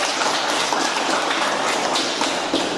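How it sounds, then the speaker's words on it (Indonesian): A class of students claps together in a classroom during a floor gymnastics lesson, a dense, loud, even patter of hands lasting a few seconds without pause. "Tepuk tangan dulu."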